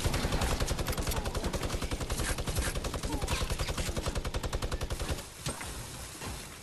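Rapid sustained minigun fire in Fortnite Battle Royale, a fast even stream of loud shots for about five seconds before it cuts off, with quieter game sounds after.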